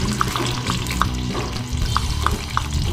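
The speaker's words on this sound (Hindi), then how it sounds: "और टमाटर को अच्छी तरह से भूनेंगे, फ्राई कर लेंगे अच्छी तरह से।" Chopped tomatoes frying in a pan for Bhopal-style beef achar, a steady dense sizzle with intermittent clinks and scrapes of a stirring spoon, close and continuous with no talking.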